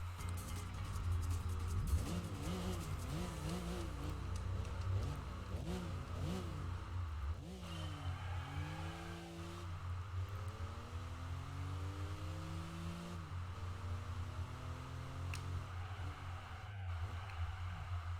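A car engine in the Gran Turismo 4 racing game revs hard and loud throughout, its pitch climbing and dropping sharply through repeated gear changes and braking.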